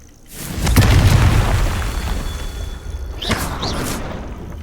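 A Confringo fire spell from Hogwarts Legacy bursts in a loud booming explosion with a deep rumbling tail, followed by softer crackles and a whooshing flare near the end, with no speech.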